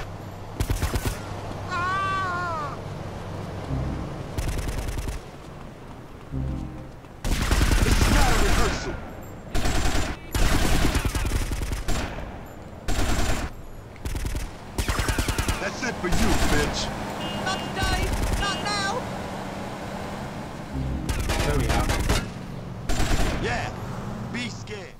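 Rapid machine-gun bursts and gunfire from GTA Vice City Stories crackle loudly in repeated volleys, mixed with game sounds and a voice talking between shots.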